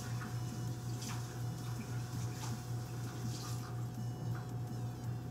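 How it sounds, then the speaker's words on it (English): Hands are rinsed under a running kitchen tap after handling bacon, a steady close splash of flowing water with small irregular surges over a low hum. "Rinse off our hands here."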